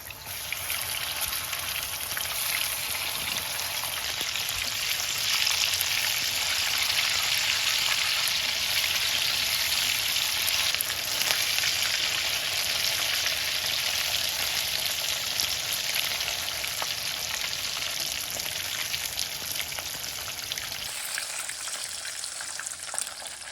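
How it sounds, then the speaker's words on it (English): Fish sizzling and crackling in half a cup of oil in a pan over medium heat, a loud, steady, dense frying hiss that continues unbroken for the whole stretch. "Fry fish on medium heat until it becomes golden."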